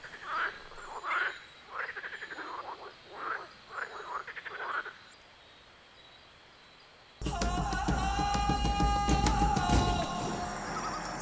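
Toads croak in a run of repeated, rhythmic calls at moderate distance on a jungle-style reality show set; after a short quiet gap a loud, dense burst of other noise takes over.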